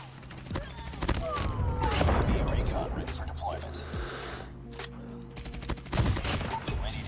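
Rapid bursts of gunfire crackle and echo through the mobile shooter game Call of Duty: Mobile, with someone talking over the shots.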